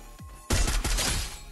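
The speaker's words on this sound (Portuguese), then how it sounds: "Esse cara tá atirando em mim" A quick burst of rapid gunfire aimed at the player in the shooter game Free Fire, loud and close, several shots in fast succession following a short electronic sweep.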